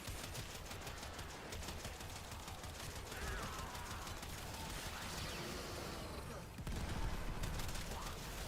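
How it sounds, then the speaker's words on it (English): Shotgun fire in the sci-fi shooter Warframe, heard as a dense, rapid chatter of close-range blasts mixed with chaotic combat effects. It stays fairly quiet, and a voice talks faintly under part of it. "I am in fact using a shotgun after all"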